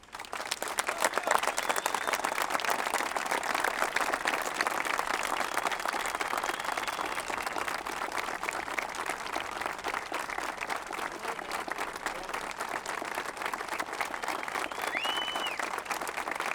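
Sustained applause from a large crowd, loud and steady throughout with dense clapping and no talk.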